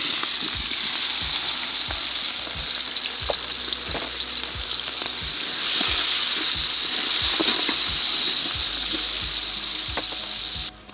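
Mustard, fenugreek and fennel seeds with onion frying in hot oil for a village-style chicken gravy, a steady loud sizzle with scattered pops and crackles of seeds throughout, no talking.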